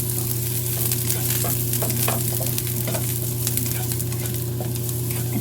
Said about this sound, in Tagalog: isunod na po natin ilagay ang ating garlic. Halu-haluin lamang po natin.